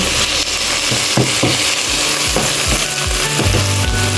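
Chicken hotdog frying with beef chili meat in a pan, a steady loud sizzle with repeated scraping stirs throughout.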